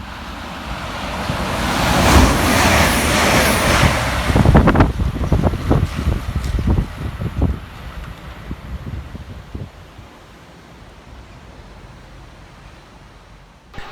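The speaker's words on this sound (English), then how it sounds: "right behind him for Transport for Wales is 197122, working 1 Whiskey 54 from Carmarthen through to Manchester Piccadilly" A Transport for Wales Class 197 train passing through Goostrey station, swelling into a loud windy rush, then a run of rhythmic wheel clicks as it goes by before fading away.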